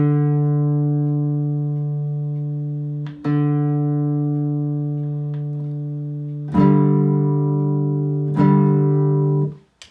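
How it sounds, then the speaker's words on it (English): Cigar box guitar played through a compressor pedal: three sustained plucked notes or chords, each struck sharply then ringing long and even with little decay, close and loud with no talking. "And now I'm going to turn on the compressor."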